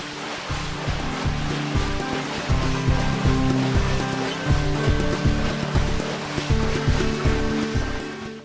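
Salted lambskins churn in water inside a tannery paddle vat, a loud, steady sloshing roar with a rhythmic low thumping pulse from the turning paddle, continuous and close, without speech.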